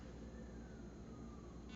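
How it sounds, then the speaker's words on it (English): A faint siren wails in the distance, its tone slowly sliding, beneath a steady low hum of background noise. "I'm hearing sirens again."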